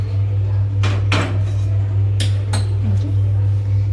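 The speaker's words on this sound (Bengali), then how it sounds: "মটর পনির রেসিপি আমার হয়ে গেছে, এবার আমি ঢেলে নিলাম" Metal spoon scraping and clinking against a cooking pan as Bengali-style matar paneer is poured into a serving dish, a few sharp clatters over a steady low hum.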